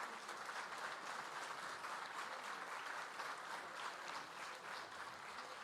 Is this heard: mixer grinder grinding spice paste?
no